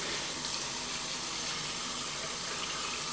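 Water running steadily from a kitchen sink tap as a plant is rinsed, a constant hissing splash with no breaks, close and even throughout.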